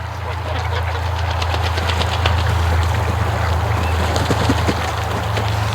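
Ducks quacking at a lake, a scattered chorus of faint, rapid quacks under a steady low engine-like hum that runs throughout.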